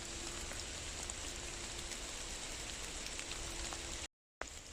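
Steady rain falls through a forest, a dense even hiss of drops on leaves and ground that carries on throughout, broken only by a brief dropout near the end.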